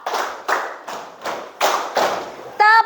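A classroom group claps in unison through six evenly spaced bursts forming a rhythmic pattern, fairly close and clear, with a teacher's voice starting at the end.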